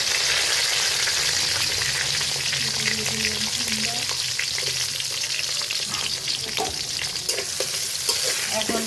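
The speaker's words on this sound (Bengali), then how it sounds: "পেঁয়াজ বাদামি কালার করে ভেজে নেব" Steady sizzling of sliced onions frying in oil in a pan with bay leaves, with occasional stirring scrapes and clinks, close and continuous throughout.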